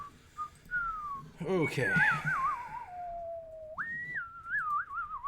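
One person whistles to call dogs with long sliding and warbling tones, rising and falling, broken by a brief burst of speech in the middle, then a higher sustained whistle with trills.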